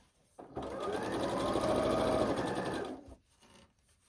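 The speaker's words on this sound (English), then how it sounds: "Okay, start sewing." A sewing machine stitches quilt pieces in one sustained run of rapid mechanical whirring lasting about two and a half seconds, close and clear, with quiet pauses before and after.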